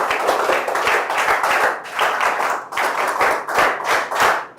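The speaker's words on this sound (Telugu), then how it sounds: "గట్టిగా చప్పట్లు కొట్టి అందరూ అభినందించండి" An audience of students and parents at a school parent-teacher meeting claps loudly and unevenly, with dense bursts of many hands striking, pausing briefly between surges across the whole stretch.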